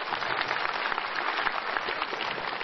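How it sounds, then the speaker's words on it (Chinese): A stage audience applauds to welcome an elderly guest at a Chinese New Year charity television special, with dense, even clapping throughout. "让我们掌声欢迎他"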